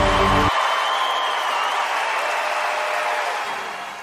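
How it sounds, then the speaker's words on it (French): A church congregation cheers and applauds, a dense roar of clapping and voices that swells at the start and slowly fades over a few seconds. "Acclame plus fort que ça."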